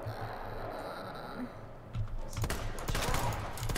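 Gunshots fire in the Resident Evil 2 video game, several sharp bursts in quick succession over the second half, following a quieter stretch of game ambience.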